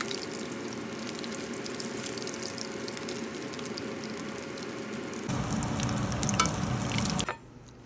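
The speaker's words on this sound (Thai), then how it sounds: "เราก็เอามาทอดได้เลยค่ะ ก็ใช้ไฟกลางนะคะในการทอด" Steady sizzling of a fish cake frying in hot oil over medium heat, with a louder, busier crackle toward the end before cutting off.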